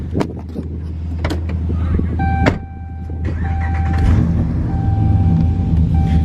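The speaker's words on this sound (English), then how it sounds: "Don't mind my exhaust leak, I gotta fix that." A car with an exhaust leak runs at a steady, close, low rumble, with thin electronic chime tones sounding over it partway through.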